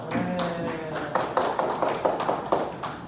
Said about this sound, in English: Give applause for everyone.